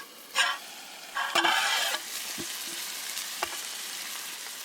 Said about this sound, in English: Got the hash browns and onions soaking in butter and bacon grease.